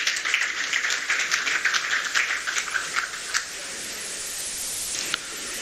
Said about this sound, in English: Please applaud for Nigeria.